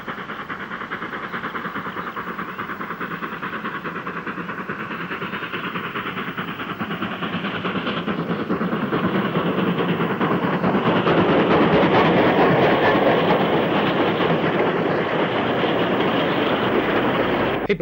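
A steam 8F locomotive hauls a long freight train loaded with bricks on a Lancashire line; a continuous rolling roar builds gradually and grows louder as the train draws closer, holding steady near the end.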